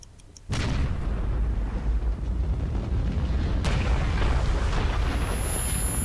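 A sudden deep boom erupts after a brief quiet moment in the video game Metro, a fiery explosion followed by a sustained roaring rumble, loud and close.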